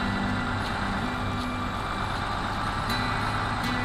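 A heavy truck in the video game SnowRunner labors under load, its engine giving a steady, dense low rumble and grinding drone with faint intermittent clicks on top.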